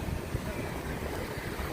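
Wind blowing through a small city park in Greenwich Village, New York, on a sunny, windy March afternoon, heard as a steady broadband rush with low microphone buffeting throughout.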